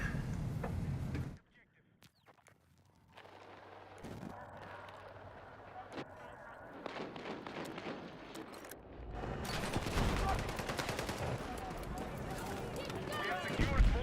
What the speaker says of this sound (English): Automated turret